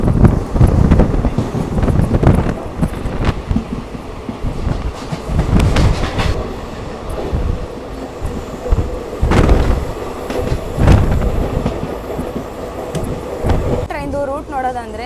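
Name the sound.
Rajya Rani express train with ICF coaches running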